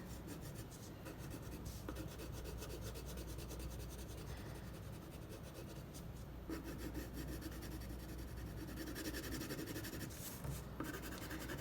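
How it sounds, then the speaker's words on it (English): A colored pencil shades across paper with a continuous, even scratchy rubbing that stays close and soft for the whole stretch, with no one talking. "trying to keep my shading with my color pencil really smooth so that you can't really see the white paper through"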